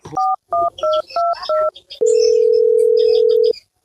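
Five short telephone keypad tones beeped in quick succession as a phone number is dialled, followed by a steady ringback tone held for about a second and a half.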